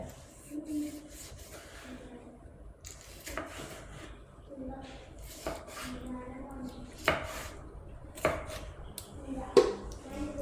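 Knife chopping onion and tomato on a board, sharp irregular chops at close range, sparse at first then clustering toward the end, over a low room hum.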